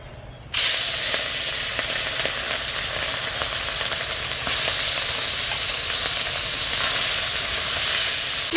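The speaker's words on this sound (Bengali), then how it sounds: "এবারে মাছগুলো এক একে কড়াই ছেড়ে দেব" Small puti fish drop into hot oil in a pan and burst into a loud, steady sizzle of hissing and spattering that carries on unbroken, close up, with no talk.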